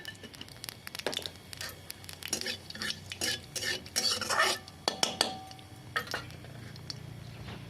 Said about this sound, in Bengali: আমি এই তেলের মধ্যে কালো জিরে ফোড়ন দিয়ে দিচ্ছি